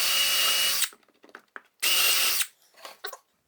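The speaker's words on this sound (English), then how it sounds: "Then you can turn your drill on to regular, and I go through about halfway." Power drill boring holes into a wooden table leg, two loud sustained whirring runs with trigger release and small clicks and handling noises between them, close up.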